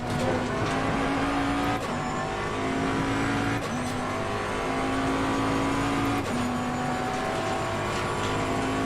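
Jaguar G3 race car engine in the Assetto Corsa Competizione racing game, a steady, loud drone holding pitch with brief dips at each gear change, running continuously throughout with no voices.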